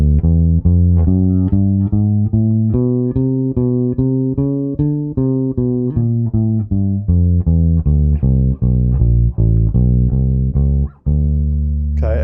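A jazz bass walks a minor line, descending through the same pattern with a raised fifth added, in a steady run of evenly spaced, loud, close notes with a brief gap near the end and no talking.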